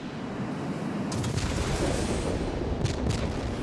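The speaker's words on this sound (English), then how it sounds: "Big rocket." Big rocket launched from an F-84F Thunderstreak jet in World of Warplanes, a steady loud roaring whoosh with deep booming rumble throughout, swelling slightly partway through.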